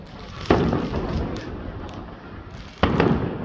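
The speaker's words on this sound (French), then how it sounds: "ils tirent toujours des feux d'artifice de dingue" Fireworks and firecrackers go off during Spring Festival celebrations on Nan'ao Island, Guangdong, China, with two sharp, loud bangs about two seconds apart over a continuous rumbling wash of distant crackling and noise.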